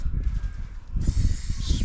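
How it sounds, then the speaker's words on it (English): Aerosol lubricant sprayed onto a bicycle chain in a home repair, a steady airy hiss starting about halfway through and running to the end over low handling rumble. "spray it and make sure it's all lubricated."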